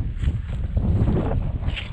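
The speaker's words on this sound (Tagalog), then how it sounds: "Kung napapansin nyo sa video natin, napakalakas na hangin." Strong wind buffeting the microphone outdoors at a fishing spot, a loud continuous low rumble with gusty swells throughout.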